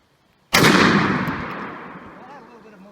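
A Stoeger M3500 shotgun fires a 3.5-inch shell outdoors at a range: one very loud, close blast that rings and fades over about two seconds, with no talking.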